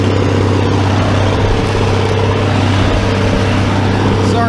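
A Farmall 806 tractor drives across a 22-acre hay field while mowing, its engine holding a loud, steady, even drone throughout with no change in pace.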